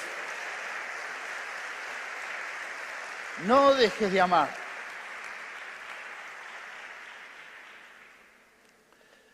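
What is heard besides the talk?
church congregation applause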